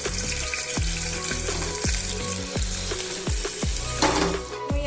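Raisins and chopped onion fry in hot ghee with a loud, continuous sizzle. About ten sharp utensil taps against the pan fall in a fairly regular rhythm, close up, with no voices.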